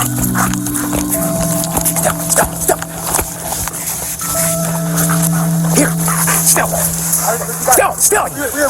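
A police K9 barks and whimpers in a predawn hunt for a fleeing car thief, in Volusia County, Florida. Officers shout commands nearby over steady radio and outdoor noise.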